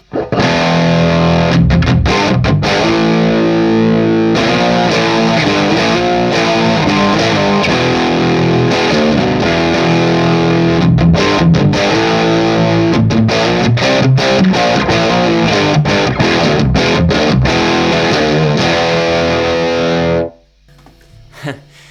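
Loud, heavily distorted electric guitar chugging with thick, saturated gain through a Marshall 1987x 50-watt plexi reissue tube amp, dense and sustained, then cut off abruptly near the end.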